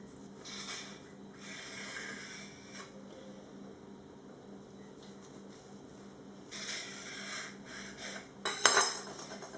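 Knife cutting thin pastry sheets into small rectangles for peanut briouates, giving quiet scraping, rasping strokes against a board that build to a brief sharper clatter near the end.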